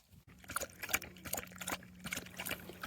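Water trickles and splashes in soft, uneven bursts as it is poured out for a dog's drink during a mountain hike, quiet and close with no talking.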